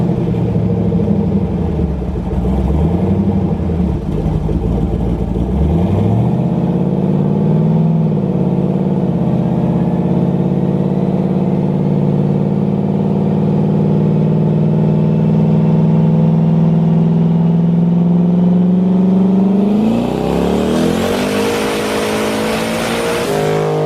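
An LS 6.0L V8 swapped into a Mustang and running boost roars loudly and continuously on a dyno pull, its pitch rising steadily before dropping off sharply near the end.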